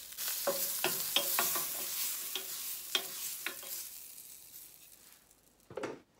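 Butter sizzles and crackles in a hot pan while lasagna is being made, with a series of sharp, close stirring or scraping bursts over soft frying noise that fades, then one final clatter.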